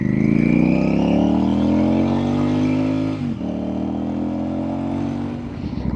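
A Royal Enfield Super Meteor cruiser fitted with center pegs and forward controls, its engine droning steadily and fairly loud while riding, with a brief dip in tone midway. No one speaks.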